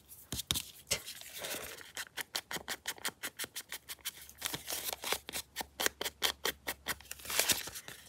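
Scissors cut open a paper envelope in a quick run of crisp, regular snips close to the microphone, with a few scraping paper sounds between them.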